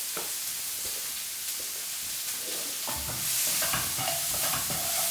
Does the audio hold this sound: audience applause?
no